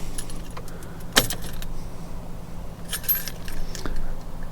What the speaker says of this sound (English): So we're gonna turn ignition off now